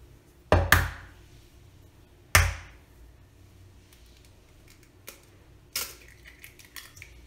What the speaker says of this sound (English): let's crack in the 3 large eggs into this blender.